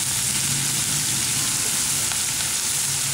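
Onions frying in a pan with green chili, curry leaves and salt hiss in a loud, dense, continuous sizzle, heard close up with faint stirring and no talk.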